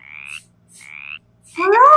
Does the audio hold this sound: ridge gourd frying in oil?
no